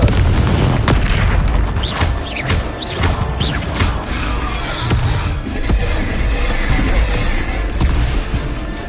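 Confringo explosive spell blasts from Hogwarts Legacy, several loud booming impacts in quick succession early on, then scattered blasts over a rumbling background of game noise.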